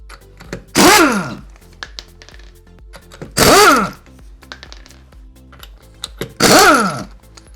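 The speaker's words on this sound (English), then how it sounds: "it's not always recommended to use an impact wrench on a wheel lock" An impact wrench works lug nuts off a Cadillac CTS/ATS wheel, firing three loud, sharp ratcheting bursts of about a second each, evenly spaced, with quieter clatter and handling noise in between.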